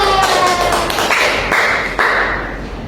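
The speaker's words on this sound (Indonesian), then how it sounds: "Hari ini tepuk tangan untuk kita." Children in a classroom clap their hands together in quick bursts, with sharp taps and a few distinct claps standing out, close and fairly loud.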